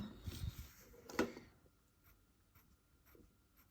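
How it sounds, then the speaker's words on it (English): A pencil drawing straight parallel lines on paper for an orthographic drawing, giving a soft scratchy stroke near the start and a sharper scrape around one second, then faint light marks. "if I move my pencil across and keep everything nice and parallel"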